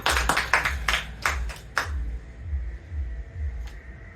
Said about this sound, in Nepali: ए हाम्रो राज दाईलाई अगाडि बोलाउनेछौँ ताली बजाएर है त